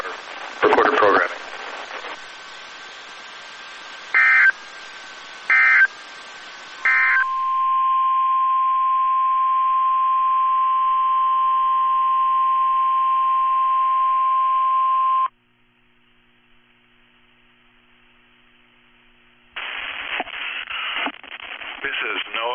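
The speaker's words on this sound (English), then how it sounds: "The preceding signal was a test of the public warning and alarm for transmitters in the Florida listening area" NOAA Weather Radio public warning and alarm test signal for Florida transmitters: a few short data bursts, then a loud steady two-tone alarm held for about eight seconds, a pause of near silence, and a broadcast voice resuming afterward.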